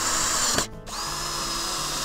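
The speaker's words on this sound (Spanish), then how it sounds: "son pedacitos de escoba y los atornillé por la parte de atrás" A power drill driving screws into small wooden shelf pieces made from broom-handle bits, a loud steady whir that briefly cuts out and then resumes at a higher pitch.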